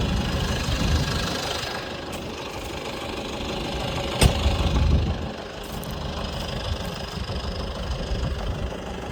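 A farm tractor engine idles in Turkey, ahead of wheat planting, with a steady low knocking rumble, broken by a brief sharp click midway, no talking.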